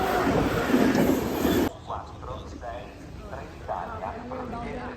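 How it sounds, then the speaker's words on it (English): A train at a station in the Cinque Terre, Italy, rumbles loudly and close for the first couple of seconds, then the noise cuts away and people talk over a quieter background hum. "There's our train."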